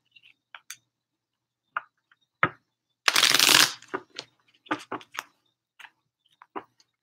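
Tarot cards shuffled by hand during a reading, a long dense riffling burst in the middle framed by short crisp card snaps and taps before and after, close and clear with no talking.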